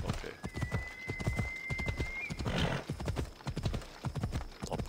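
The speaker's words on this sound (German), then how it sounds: "Da braucht sich das Pferd nicht die Hufe zu brechen." Horse hooves clip-clop steadily in the video game Assassin's Creed Odyssey, a near, rhythmic trot with a brief whinny partway through and faint background tones.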